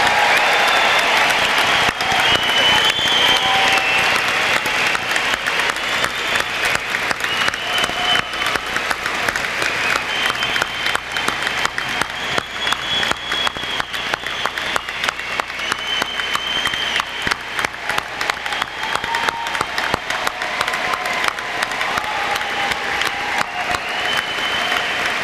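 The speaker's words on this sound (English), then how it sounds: "let's have a really warm cheer for all these new biomedical scientists and physicians" An audience at a 1988 medical school graduation ceremony in Buffalo cheers and applauds the new physicians and biomedical scientists, with dense, sustained clapping and scattered shouts that fill the hall steadily from start to finish.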